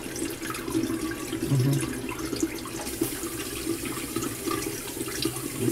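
Running water from a tap pours steadily and close by while a face is rinsed after a boy's first shave, with splashes and gurgles rising and falling across the whole stretch and no talking.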